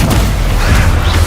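A Protego shield spell is cast in Hogwarts Legacy, giving a short, loud, booming magical burst with a low rumble that lasts about a second.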